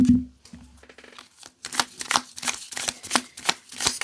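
Dark Mansion Tarot cards shuffled close up in a run of crisp riffling bursts, each a quick papery flutter with short gaps between, growing busier and more rapid toward the end.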